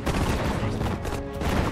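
Infantry fire in the WWII strategy video game Sudden Strike 4, during an Allied campaign battle in Operation Plunder: a dense, continuous rattle of rifle and machine-gun fire filling the whole stretch at high loudness.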